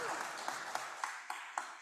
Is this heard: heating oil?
no